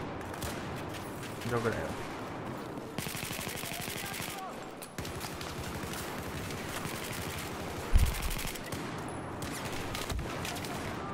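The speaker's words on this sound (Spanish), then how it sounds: "el otro está disparando por la bandera" Rapid automatic gunfire rattles in bursts during a competitive Battlefield 4 match, the shots near and loud with a heavier thump partway through, while someone talks briefly over the firing.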